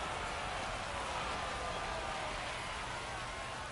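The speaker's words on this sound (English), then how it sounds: "the rain's still a factor here" Rain falls steadily during a baseball game, a dense continuous hiss filling the whole stretch with no clear voices over it.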